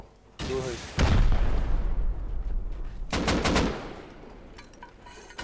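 Gunshots ring out in the video game Rust, fired from below a rooftop, with heavy booming reports and then a quick rattling burst of automatic fire, loud and close.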